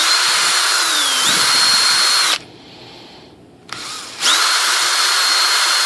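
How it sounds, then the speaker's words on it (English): Power drill reaming out holes in a rudder control part of an ASH26 2.6 m composite sailplane, a loud close high whine in two bursts separated by a short quiet pause. "we're going to ream out each of the holes just a little bit"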